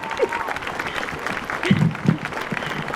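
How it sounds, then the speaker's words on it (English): Clapping from a crowd at an outdoor protest rally, a loose scattered patter with a few brief voices and shouts rising above it. "Give me a clap"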